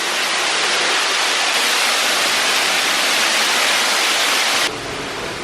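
Waterfall inside Marvel Cave, a loud steady broadband rush of falling water that fills the space, dropping abruptly in level near the end as if the listener moves away, with no talking.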